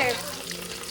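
A brief burst of sizzling as onions, green chilies and whole spices fry in hot ghee, with a voice speaking briefly at the start.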